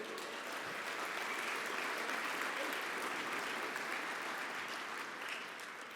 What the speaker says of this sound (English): Was that just Jarrett clapping by himself, or did everybody participate in that?